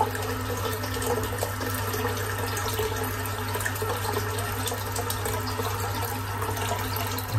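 Tap water runs steadily into a bathroom sink, a constant close rushing and splashing as the basin fills, with no voices over it.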